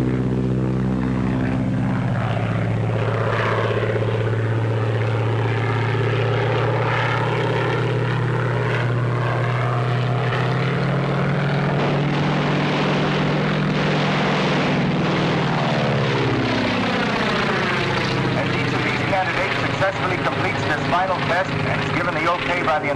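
Propeller-driven airplanes of a 1939 film approaching the airfield, a loud continuous engine drone whose pitch sweeps and shifts as the planes pass close by, with a voice speaking over it.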